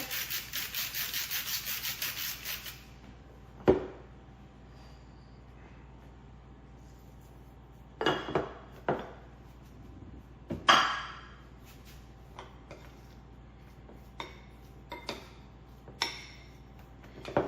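Ricotta, mozzarella, parsley, salt and pepper are stirred together in a bowl, heard as scattered spoon scrapes and taps against the bowl, irregular and close, after a short burst of rushing noise at the start.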